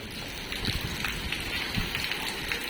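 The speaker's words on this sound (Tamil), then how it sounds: "மழை ரொம்ப பெய்யுதுல" Steady broadband hiss of heavy monsoon rain in Chennai, fairly loud and constant, with scattered heavier drips and splashes and low thuds underneath.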